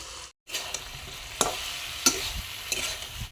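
Chicken legs frying in spices with fried potatoes added, heard as a steady sizzle broken by three distinct scraping stirs of a spoon against the pan.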